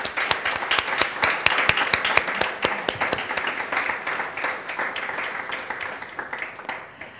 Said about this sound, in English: Please spend a warm applause to our panelists.